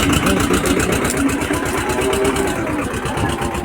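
A farm tractor engine runs steadily close by, a continuous loud low throbbing idle with regular mechanical pulsing, restarted after sitting unused for many days, with the gears not engaging.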